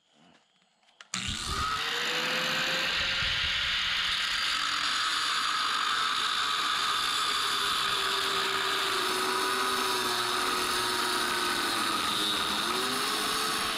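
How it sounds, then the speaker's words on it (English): A power tool snaps on and a loud, sustained grinding whine of a cutoff wheel cutting metal frame parts for a Ford F100 runs steadily to the end. "I'm gonna go ahead and use this cutoff wheel"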